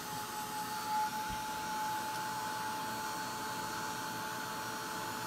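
A heat tool blasts steadily over a Brusho powder image, a constant close whirring blow of air holding at an even level for several seconds with no talk.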